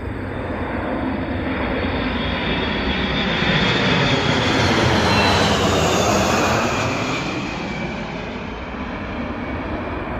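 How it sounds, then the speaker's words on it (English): Tanker refueling aircraft of the 185th Air Refueling Wing flying over near Sioux City, Iowa: a loud, broad, continuous engine roar that swells toward the middle of the pass and eases slightly as it fades. "we got another plane coming."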